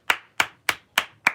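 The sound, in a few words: hand clap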